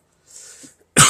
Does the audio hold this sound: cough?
yes